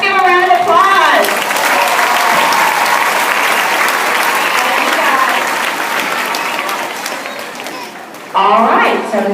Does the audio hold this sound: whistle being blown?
no